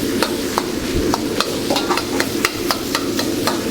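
A spoon breaking up cooked rice in a hot pan with kimchi, quick scraping taps against the pan and a soft sizzle underneath, close and fairly loud with no talk.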